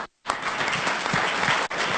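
Sustained applause from an audience at an exemplary leadership award ceremony, a dense clatter of many hands after a short silence, steady and fairly loud with a brief dip near the end.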